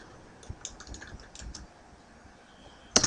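Computer keyboard typing comes in a quick burst of light clicks over about a second and a half, close and quiet, then a pause and one sharp click at the end.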